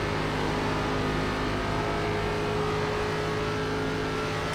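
ARCA race car engine in iRacing, a steady loud drone of the motor building under throttle, close and continuous with no pauses.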